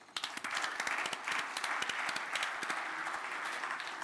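Sustained applause from a conference audience at a blockchain and youth summit, with dense clapping that rises quickly and holds steady for several seconds, fairly close and loud with no talk over it.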